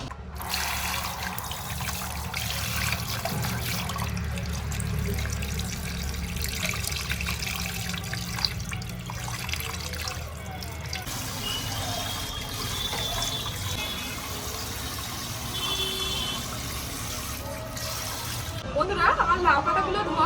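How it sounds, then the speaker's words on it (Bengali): Bottle gourd leaves washed under a running tap at a sink, a steady close trickle and splash of water that shifts in tone near the end, with a voice speaking over it. "এই যে লাউ পাতাগুলো আমার বাছা হয়ে গেছে এবার চলো লাউ পাতাগুলো ধুয়ে নিই"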